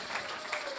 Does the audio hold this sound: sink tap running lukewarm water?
no